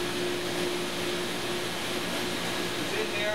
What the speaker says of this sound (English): sucks all the air out, makes a real good contact between the glass, the negative, and the plate